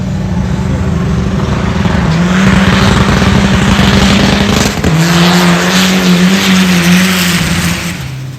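A loud turbocharged race car on semi-slick tires, not yet well tuned, roars close by at high revs for several seconds, with a brief drop in engine note midway and a faint tire squeal, without talk.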